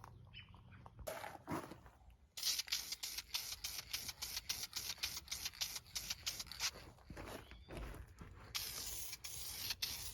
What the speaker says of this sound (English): I'm just gonna run it with a couple light coats just to get a nice base.